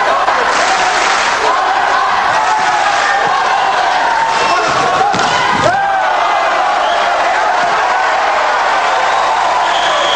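Spectators at a 1980 West Germany versus Greece men's volleyball match cheer, shout and applaud in a dense, continuous crowd roar that fills the arena. A commentator may be speaking over it.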